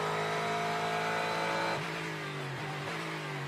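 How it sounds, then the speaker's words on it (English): LMP2 prototype and GT race cars howl past at Watkins Glen during a six-hour endurance race, loud engine notes rising and then dropping in pitch as they go by, with engines revving steadily and no talk. "Another LMP2 goes flying by"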